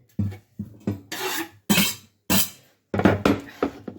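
Chopped onion goes into a pan for butternut squash soup, landing in a series of short, sharp clattering bursts with quiet gaps between them, close and fairly loud.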